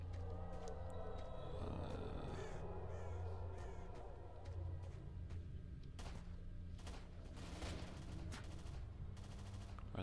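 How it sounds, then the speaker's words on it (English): Distant gunshots crack in several sharp bursts in S.T.A.L.K.E.R.: Shadow of Chernobyl, mixed with crow caws and a low rumble in the game's outdoor ambience, no talking. "Are they shooting at me?"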